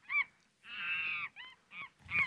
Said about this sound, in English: Yeah, that's the monkey chatter.